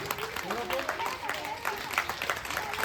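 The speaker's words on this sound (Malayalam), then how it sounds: "ഒരു നിറഞ്ഞ കയ്യടി കൊടുക്കുക" Audience applause at a 79th Independence Day celebration, a steady wash of many hands clapping, moderately loud and continuous, with a voice speaking over it.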